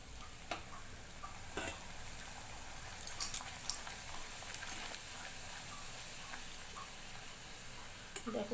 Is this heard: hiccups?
no